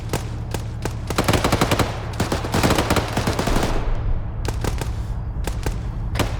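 Rapid bursts of automatic gunfire from a military shooter game, loud and close, with volleys crackling through the first four seconds, a brief lull, then more scattered bursts over a steady low rumble.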